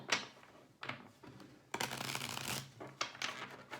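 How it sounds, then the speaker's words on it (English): A tarot deck being shuffled in several brisk riffles and bursts, close by and fairly loud, with short pauses between shuffles. "I'm going to give my first deck one more shuffle"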